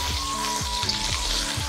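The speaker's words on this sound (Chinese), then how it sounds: "切好的红烧肉直接下锅生爆" Cubed fatty-and-lean pork belly sizzles hard in a wok with only a little oil while the fat renders out. The crackle runs continuously, broken by regular scraping stirs about every half second, and no one speaks.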